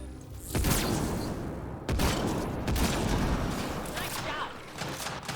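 Sustained gunfire rattles through a firefight in Mass Effect: Andromeda, loud and dense with sharp bursts and booms, while a person talks over the shooting.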